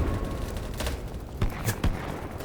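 Gunfire in the shooter game Battlebit Remastered, a few sharp distant-sounding shots cracking over a steady battlefield rumble, with no talking.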